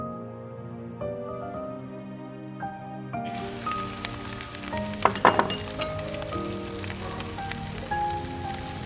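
Carrot and mixed vegetables hit hot oil for fried rice, setting off a sudden steady sizzle after a quieter start, with a few clinks of stirring in the pan.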